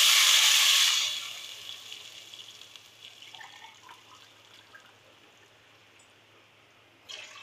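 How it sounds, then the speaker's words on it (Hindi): Water is poured into a cooking pot for a masoor daal khichri, a loud rushing splash for about a second, then fading fizzing and bubbling, close by with no talk. "हम पानी डालेंगे।"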